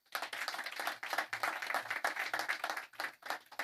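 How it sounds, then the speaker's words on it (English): An audience at an empowerment forum claps for a girl, a dense run of hand claps that pauses briefly and then resumes, with no voices over it. "Please clap for this girl."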